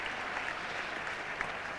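Cricket crowd at Lord's applauding a hundred partnership during a 1979 World Cup one-day match, a faint, distant, even patter of clapping around the ground.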